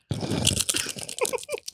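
A chip bag being torn open, giving close, crinkly crunching bursts of plastic that rise and fall in short irregular crackles, fairly quiet with no talk.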